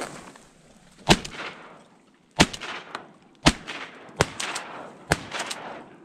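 Shotgun shots fired while duck hunting from a kayak in Iowa, five loud sharp blasts spaced about a second apart, with short echoing tails outdoors and little else.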